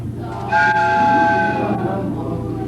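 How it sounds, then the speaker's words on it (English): A stage sound effect of a train arriving at a junior high school production of The Music Man, a loud steady rumble with a sustained whistle tone, heard close and without talking. "There's your train, now run for it."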